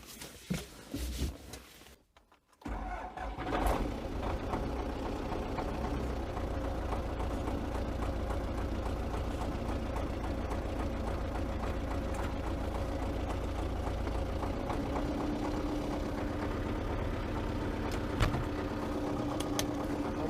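MTZ tractor with a large cab starting to drive off, a steady low diesel engine drone that rises after a brief quiet moment at the start and then holds constant with faint rattles.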